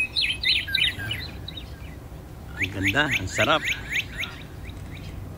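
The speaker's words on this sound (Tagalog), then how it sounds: "Maririnig mo lang yung huni ng ibon" Birds chirp and sing by Lake Balboa, bright repeated tweets near and far, with a brief spoken remark from a person amid the calls.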